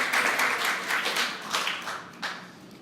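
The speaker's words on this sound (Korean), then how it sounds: "여러분, 이럴 땐 진짜 우리 박수 한번 하나님께 할렐루야 영광 돌립시다." A church congregation claps together during a New Year thanksgiving worship service, a broad, steady wash of many hands that swells and fades slightly, with no voices over it.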